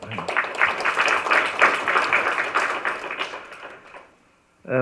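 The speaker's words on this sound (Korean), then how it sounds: "박수로 좀." Applause at a seminar on urban regeneration in Daejeon, welcoming an official guest, a steady round of many hands clapping, fairly close, that fades out near the end before a voice resumes.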